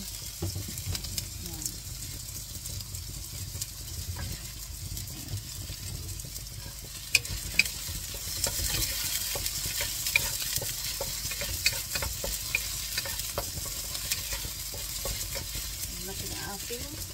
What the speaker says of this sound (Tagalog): unahin natin ating sibuyas kasi mainit ang ating kawali kaya hindi siya masyado masunog ba.